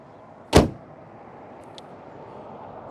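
A 2022 Aston Martin Vantage V8 door shuts with a single solid thud, close and loud, followed by a brief faint click against steady outdoor background noise.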